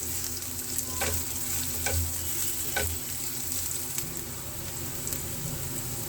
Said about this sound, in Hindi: 1 प्याज मैंने यहाँ पे ली है मीडियम साइज की और इसे अब हमें ट्रांसलूसेंट हो जाने तक फ्राई कर लेना है